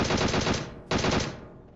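Rapid automatic gunfire from PUBG Mobile gameplay, two loud sustained bursts of closely spaced shots separated by a brief gap, with no talk over them.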